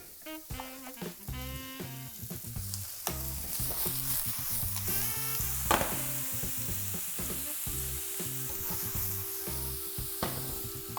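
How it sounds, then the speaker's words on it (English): Beef sizzles in a pan with mushrooms for beef stroganoff. A steady, fairly faint frying hiss runs throughout, underneath louder background music. "Fry a little bit more, and after that, the heavy cream in."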